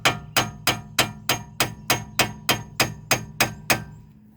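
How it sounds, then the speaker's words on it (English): A metal hammer strikes a rusted part on a Chevy Equinox twelve times at an even pace, each tap sharp and ringing briefly before the next. "I'm just using the regular metal hammer."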